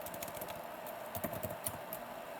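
Quiet, quick keystrokes on a computer keyboard tap in an irregular stream, near and soft, with no talking.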